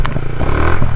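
A Suzuki Satria FU motorcycle rides off-road on a slippery, rain-soaked track, its engine running steadily and loud up close for about a second, with some clattering over the rough ground.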